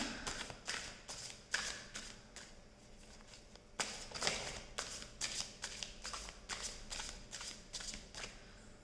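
Tarot cards are shuffled by hand during a reading, giving repeated riffling bursts with brief pauses between them. The sound is close and fairly quiet, with no speech.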